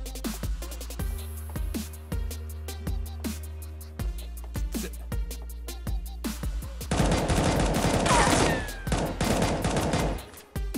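Rapid automatic gunfire and bursts of shots from the battle royale game Knives Out, with repeated sharp reports over a steady game background, growing into a dense, loud volley near the end.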